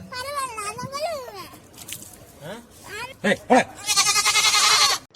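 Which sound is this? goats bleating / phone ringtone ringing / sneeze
goats bleating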